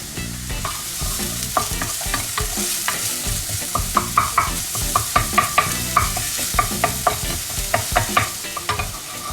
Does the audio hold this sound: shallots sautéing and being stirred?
yes